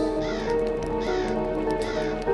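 Crow-like caws sound in a short repeated series against a humming tonal drone and eerie music, the calls rising and falling in rough bursts at a moderate distance.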